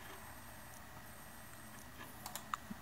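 A few light, quiet keystrokes tapped on a computer keyboard while entering a date of birth into an online form, scattered near the end over a steady low background hum, with no voices.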